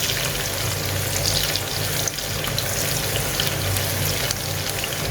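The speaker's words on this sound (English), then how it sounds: "Now I'll add in some chopped onions. Let the onions fry until it's nice golden brown." Chopped onions fry in vegetable oil in a pot for Kolkata mutton biryani, giving a continuous, even crackling sizzle with a bubbling undertone, close and fairly loud, with no voices.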